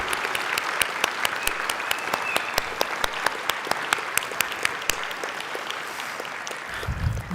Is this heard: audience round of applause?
yes